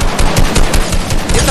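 Dense automatic gunfire in Fortnite, loud and close, a rapid continuous burst of shots with no pause, no talk over it.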